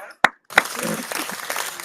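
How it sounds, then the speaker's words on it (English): A church congregation breaks into clapping after a couple of sharp single claps, building into dense, close applause. "So let me clap for him first."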